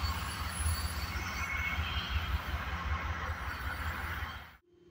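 A freight train rolls past with a continuous loud rumble and a sustained high wheel squeal. The sound holds steady, then drops away abruptly near the end.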